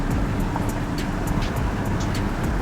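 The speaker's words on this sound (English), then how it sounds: "I can feel the turbo kicking in, but it's just not picking up." A 2018 VW T-Roc with a turbo engine drives in limp mode. A steady, dull engine and road drone is heard from inside the car, constant and unchanging, with no rise in revs.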